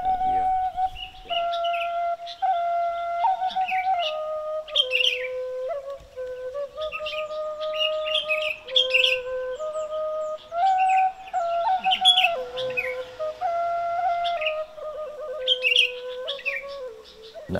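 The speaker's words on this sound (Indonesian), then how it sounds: "di desa kami sudah terdengar kicauan burung tiap pagi" Birdsong in a village in the morning: a continuous run of clear, melodic whistled notes that step up and down in pitch, close and fairly loud, with sharper chirps scattered over the top and no talking.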